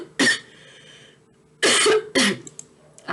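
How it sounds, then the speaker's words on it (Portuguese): A woman coughs and clears her throat three times indoors: one short harsh burst, a pause, then two heavier coughs close together, loud and close to the microphone with no talk. "Peraí que eu preciso tossir."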